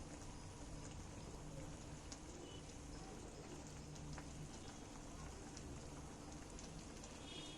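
An egg curry mixture simmers quietly in a pan, giving a faint, even bubbling hiss that holds steady and alone from start to finish.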